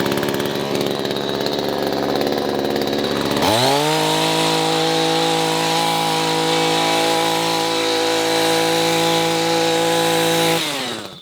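An Echo HC-2020 professional gas hedge trimmer with sharp blades runs steadily while cutting a hedge near house siding, a loud buzzing engine drone that rises to a higher, stronger whine and holds before stopping near the end.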